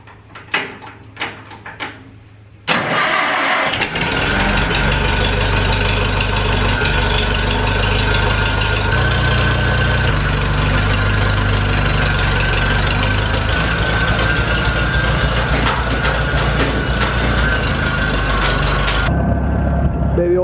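A JCB Teleskid's diesel engine comes in after a few sharp clicks, then idles loudly and steadily with a rough, knocking rumble before it suddenly cuts out.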